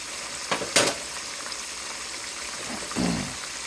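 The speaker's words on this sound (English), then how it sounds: "They are frying nicely." Pork chops fry in hot oil with a steady crackling sizzle, broken by a few sharper pops and spatters close by.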